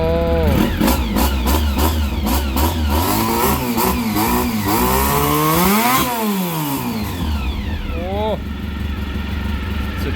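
A Honda CBR400RR NC29 inline-four motorcycle engine revs hard again and again, its pitch sweeping up and down in sharp blips, loud and close, with voices talking over it.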